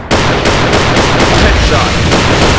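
Rapid gunfire in a shooter video game, a dense, loud run of overlapping shots and impacts that fills the whole stretch without letting up.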